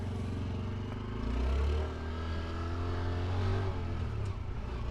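A 2021 Honda Trail 125 motorcycle pulling away in first gear, its small single-cylinder engine giving a close, low throbbing drone that swells briefly as it accelerates off, with no talk.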